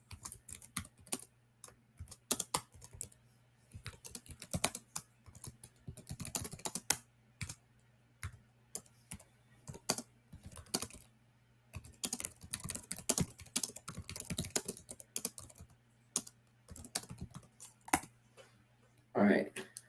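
Bursts of typing on a computer keyboard, close and fairly loud, with pauses between runs of rapid key clicks; a voice speaks at times.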